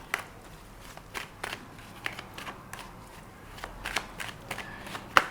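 Tarot cards pulled from a deck during a reading: quiet, scattered papery flicks and soft taps at irregular intervals, close by, with no speech.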